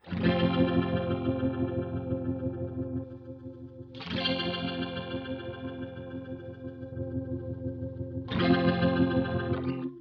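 Electric guitar chords ring out through a modulation pedal with depth set to 1, adding preamp distortion; three strummed chords each sustaining with a wavering, slightly gritty distorted tone.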